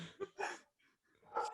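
Dogs bark in a few quick yips and barks, moderately close, with a short pause before a final louder bark.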